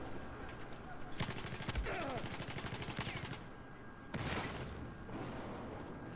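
Gunfire from Battlefield 4 in a tunnel fight, a long rapid burst of automatic shots followed by a second shorter volley, loud over game ambience.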